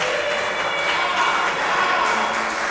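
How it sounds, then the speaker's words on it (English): A crowd at a Bible quiz championship grand finale applauds and cheers, a dense continuous wash of clapping at moderate level with no break. "Let's give a round of applause for them."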